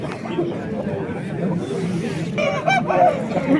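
Roosters, chickens and other fowl at a busy poultry market in Fergana, Qumtepa, with crowing and clucking under a constant murmur of chatter and nearby voices.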